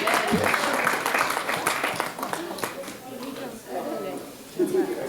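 Comedy club audience applauding the bartenders, a burst of clapping and cheering that swells and tapers over a few seconds with voices mixed in.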